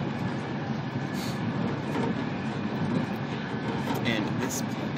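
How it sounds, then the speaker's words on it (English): Steady, dense rumble and rushing noise inside a fast-moving high-speed train from Rome to Naples, continuous throughout with faint hiss and occasional soft knocks. "This is one of those bullet trains that gets from Rome to Naples or Napoli in about an hour"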